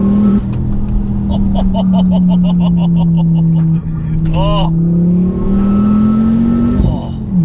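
A 400 bhp Ford Focus RS in WRC Michelin livery, its engine droning steadily with rising and falling revs, heard from inside the cabin while a person talks over it.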